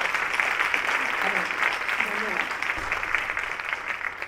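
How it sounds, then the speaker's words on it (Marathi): A concert audience applauding tabla and harmonium accompanists, with dense, continuous clapping that holds steady throughout, with a few faint voices underneath. "मला वाटतं आपण तबल्यासाठी आणि पेटीसाठी पण एकदा जोरदार टाळ्या वाजवल्या पाहिजे"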